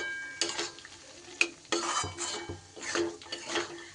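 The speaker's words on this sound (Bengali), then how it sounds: "আলু আর মটরশুঁটি একটু মশলার সাথে কষিয়ে নেব।" Potatoes and peas sautéing with spices in a pan, with a steady sizzle under repeated scraping and clattering strokes of a stirring utensil against the metal, close by and with no talking.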